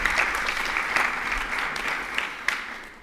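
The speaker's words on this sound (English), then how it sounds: "Let's clap, actually, for these two great participants." Audience applause at an academic symposium, steady clapping from a crowd that fills the whole stretch at an even level, with a few sharper individual claps standing out.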